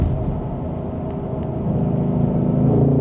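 Cabin of a Ford Mustang Dark Horse on a highway from about 55 mph, engine droning low and steady, building slightly in loudness as it accelerates, with no talking.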